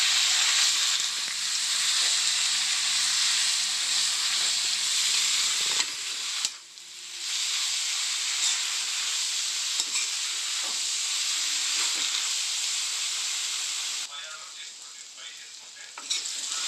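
Spinach fries in a pan with a continuous, close sizzle and hiss while it is stirred, the scraping strokes audible throughout. There is a brief break in the middle before the frying and stirring continue.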